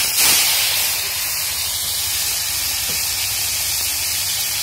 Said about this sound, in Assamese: এতিয়া মই তাক ফ্ৰাই কৰিব লৈছোঁ